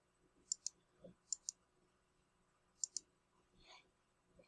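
A computer mouse clicks close up in a quiet room, sharp little clicks mostly in quick pairs, with a few faint soft knocks between them.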